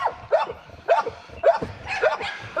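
Presa Canario or South African Boerboel dog barking in repeated loud, close barks about every half second, with faint whimpering yips between them.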